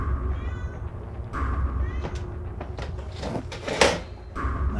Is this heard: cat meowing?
yes